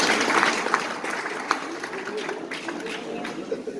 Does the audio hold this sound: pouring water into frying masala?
no